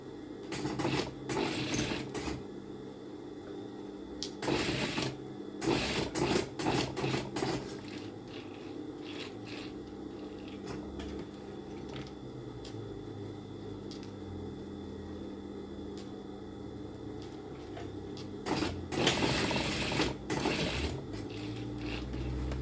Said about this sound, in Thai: แล้วเราก็เย็บเย็บต่อกัน